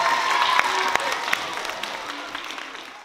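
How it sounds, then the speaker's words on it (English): An audience claps for student performers at a school event, a dense even patter of hands at moderate level with a few sharper claps standing out, tapering slightly toward the end. "Let's give another round of applause to those who performed."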